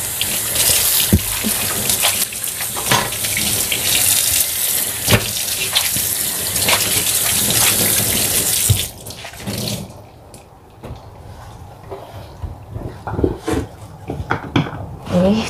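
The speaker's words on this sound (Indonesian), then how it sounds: "Ini tinggal nyuci ini nih." Dishes washed under a running kitchen tap, a loud steady gush of water with clinks of utensils, which then drops away to quieter scattered clatter and splashes.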